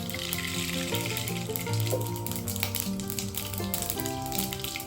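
Mustard seeds sizzle and crackle in hot oil for a palak and moong dal dish, a steady frying hiss running the whole time beneath louder tonal background music.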